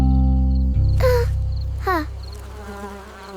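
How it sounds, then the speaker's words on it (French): A cartoon bee's buzzing in a children's song, heard as a steady low drone under music with two brief rising chirps. "L'abeille bourdonnait doucement en chantant."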